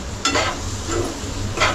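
Ivy gourd and potato curry frying in oil as it is stirred, a close sizzle with a few sharp scrapes of a spoon against the pan.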